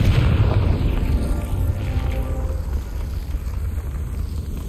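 A Confringo fire spell explodes in the Hogwarts Legacy video game, a loud booming blast that rolls into a sustained roaring rumble lasting several seconds.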